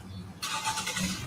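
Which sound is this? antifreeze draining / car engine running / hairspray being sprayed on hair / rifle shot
car engine running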